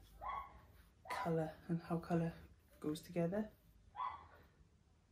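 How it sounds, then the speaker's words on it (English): A neighbour's dog barks in short bursts in the background while someone talks over it about colour. "So I'm sure you can hear the dog barking."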